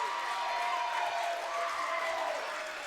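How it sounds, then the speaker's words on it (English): A crowd at a men's college volleyball match in the Knight Arena roars steadily, a broad wash of cheering with whistles and shouts rising through it, no clear voices standing out. "The crowd coming alive here in the Knight Arena."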